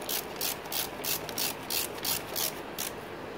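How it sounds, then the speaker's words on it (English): A wrench tightening a nut on a motorcycle rear brake lever bolt, with quick, steady ratcheting strokes repeating about nine times in a rhythmic, close series. "just hold it with the Allen and tighten it with the wrench"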